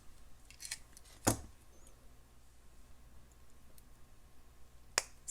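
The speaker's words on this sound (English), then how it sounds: "Snip off the excess" Scissors snipping excess cord from a double-strand boho bracelet: two sharp, brief clicks about four seconds apart, close and quiet, in an otherwise hushed room.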